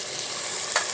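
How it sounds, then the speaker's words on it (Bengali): Taro root and rohu fish curry sizzling in a pan while being stirred, a steady close frying hiss with one brief scrape of the spoon. "আবার নেড়ে চেড়ে দিই"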